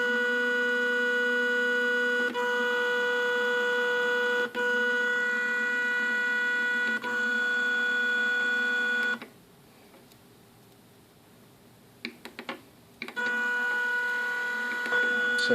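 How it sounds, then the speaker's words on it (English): An HP 2605 laser printer motor whines steadily, then brakes abruptly into near silence, clicks a few times and whirs back up as it reverses, loud and close with no talk. "Now if I push reverse, it stops immediately and reverses."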